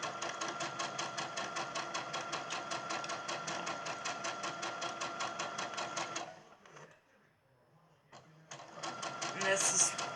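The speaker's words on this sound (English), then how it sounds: "So I'm just stitching down to make that casing." A sewing machine stitches down a fabric casing for elastic on a plastic bag holder, a fast steady mechanical chatter for about six seconds before it stops, then restarts briefly near the end.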